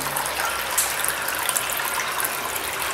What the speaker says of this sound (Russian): Кругом можно слышать, как струятся грунтовые воды.